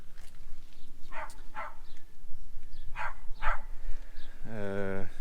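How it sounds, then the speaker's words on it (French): A dog in a farm workshop, excited by something inside a pipe, lets out four sharp barks in two pairs, moderately close, then a drawn-out whining tone. "c'est le chien, il a trouvé un truc dans un tuyau"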